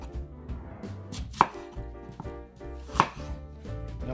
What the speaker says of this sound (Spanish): la manzana la vamos a cortar de esta manera